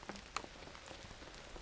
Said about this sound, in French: Vous voyez, il pleut